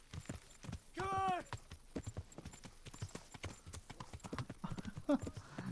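Horse hooves clip-clopping in the Kingdom Come: Deliverance video game, a steady rhythmic patter of close hoofbeats with a brief whinny early on.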